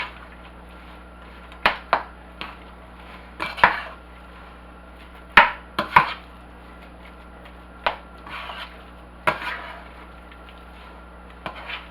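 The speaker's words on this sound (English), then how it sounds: "Cutting those chunks down some" A knife cuts chunks of food on a board for potato salad, giving sparse, sharp chops and taps at irregular intervals with quiet rubbing between, close and alone.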